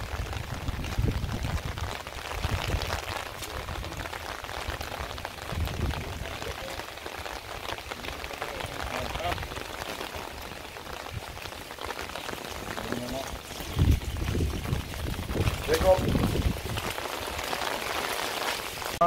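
Rain falls steadily on a surface, a dense, moderately loud patter with heavier bursts and low rumbling gusts throughout, with no clear voices over it.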